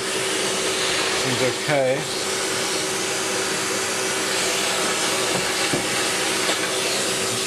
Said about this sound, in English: Keeping the nozzle of the vacuum cleaner away.